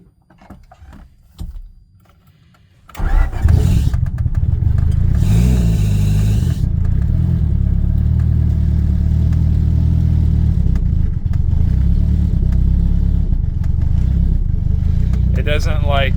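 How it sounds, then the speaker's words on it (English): A turbocharged 1992 Honda Civic EG engine cold starting: a quiet interior with a brief cranking sound, then the engine catches loudly and settles into a rough, uneven idle close by. "It doesn't like cold starts, as you can tell."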